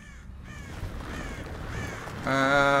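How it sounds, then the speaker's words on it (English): Crows cawing in the video game Tearaway Unfolded on a moor, several harsh calls over a game backdrop, with a loud sustained tonal burst joining near the end. "crows are now a force to be reckoned with"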